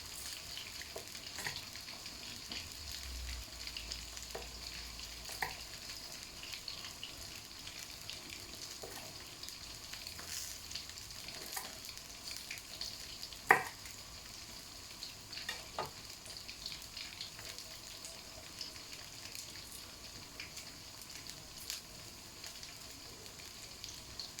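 Pork fries in hot oil with a constant soft sizzle and scattered sharp pops and spits, fairly quiet and steady throughout.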